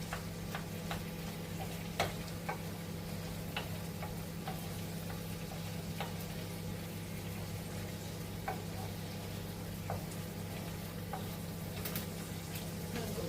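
Prawns fry softly in a pan on an electric stove, giving a quiet, steady sizzle with faint scattered ticks and pops throughout and no talking.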